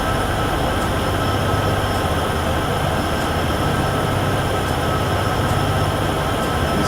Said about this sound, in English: Good old UP trains, these Union Pacifics are getting the job done.